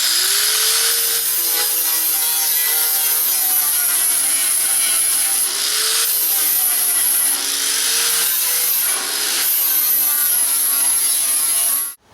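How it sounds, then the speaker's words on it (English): Flap wheel on an angle grinder working rusty metal on a car trunk lid, a loud continuous high whine with the pitch dipping and recovering as the wheel bites, close up, stopping abruptly at the end. "I'm going to clean up the area here on the trunk lid itself with a flap wheel"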